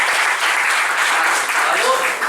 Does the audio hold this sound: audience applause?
yes